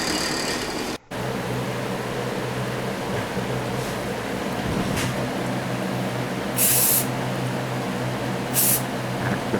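Short bursts of spray primer hiss from an aerosol can onto a diecast law enforcement model, two brief loud spurts over a steady background hum.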